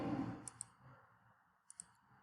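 Two quick pairs of computer mouse clicks, sharp and fairly close, in a quiet room with a low background hum and no talk.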